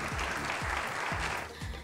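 A short burst of audience applause in a hall at a medical school celebration, soft, even clapping heard from a distance with a few louder thumps.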